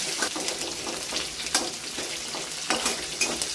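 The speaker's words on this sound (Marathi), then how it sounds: "मिरचीला पण असं छान परतून घ्यायचं आहे फोडणीमध्ये" Green chillies fry in hot oil as a tempering, giving a steady close sizzle with light crackles and occasional stirring clinks, no voices present.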